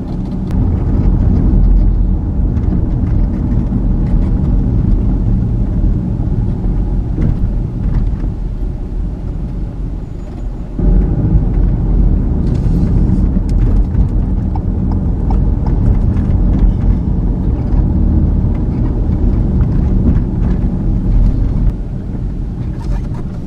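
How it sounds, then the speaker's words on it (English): A car drives through downtown Trenton with a loud, rumbling road and engine noise throughout, briefly dipping midway before the steady drone returns. "So I'm going to drive through downtown and go to the other side"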